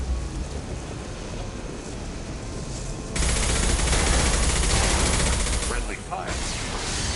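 Dense, continuous gunfire from Mass Effect 2 Legendary Edition, a steady wash of rapid shots that grows louder partway through, with faint voices mixed under the din.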